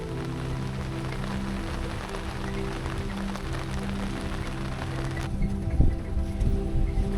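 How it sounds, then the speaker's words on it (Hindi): Rain falls during an evening wildlife safari in a forest, a steady patter on surfaces with a low vehicle rumble beneath. A few louder knocks come near the end. "और शाम की सफारी में आते आते ही बारिश आ गई"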